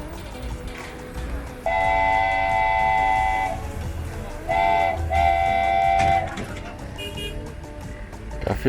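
A small petite tourist train in Agadir runs through the city streets past a mosque, its rumbling motion carrying a steady tonal whine and a repeated horn-like blast mid-ride, with ambient traffic beneath.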